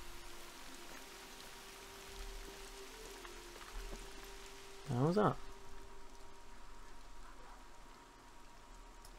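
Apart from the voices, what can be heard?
rain in the video game The Hunter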